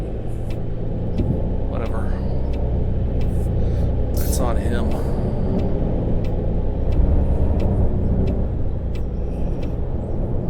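A bus in the Tourist Bus Simulator game rumbles steadily at idle and low speed, with short hissing air-brake bursts and small creaks, while someone talks over it.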